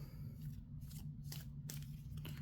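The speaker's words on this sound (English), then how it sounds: "Let's shuffle back in." Quick riffling bursts of cards being shuffled, several rapid flutters in a row over a low steady hum, close and fairly quiet.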